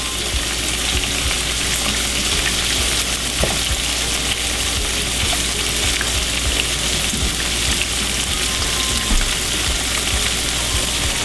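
Red peppers and red onions fry with fresh garlic and herbs, giving a loud, dense, continuous sizzle with faint scraping from stirring and no voices.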